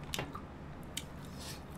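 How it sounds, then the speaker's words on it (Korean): Close, wet chewing with an open mouth: a few soft squishy smacks and clicks spaced irregularly over a low, steady background hum, fairly quiet. "형 근데 더럽게 쩝쩝댄다."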